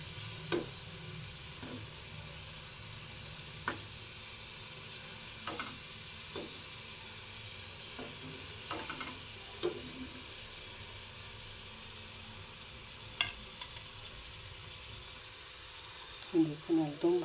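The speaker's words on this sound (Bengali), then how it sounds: "তো এর জন্য গ্যাসটাকে কমিয়ে ভাজছি একদম" Cheese rolls fry gently in oil over a low gas flame, giving a faint, even sizzle with a few scattered clicks of a utensil against the pan.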